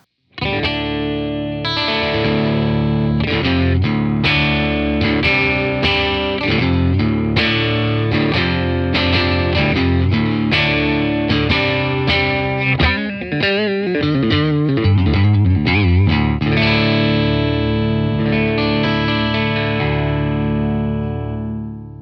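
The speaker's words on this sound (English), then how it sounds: "with both pickups on through the 30R on channel 2 with a hint of gain and reverb" Fender Powercaster electric guitar with both pickups on, in drop D tuning, through an amp with mild overdrive and a touch of reverb, plays a steady run of chords and riffs, loud and continuous with no talking.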